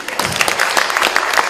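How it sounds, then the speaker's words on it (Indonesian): A stand-up comedy audience gives a short, lively burst of clapping, loud and close, with many hands patting irregularly over about a second and a half. "Tepuk tangan dulu Om Riri Riza."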